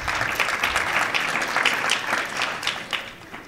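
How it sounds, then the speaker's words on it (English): An audience at a university keynote conference gives a steady round of applause, dense and fairly loud, with individual claps standing out and thinning slightly toward the end. "to give them a round of applause"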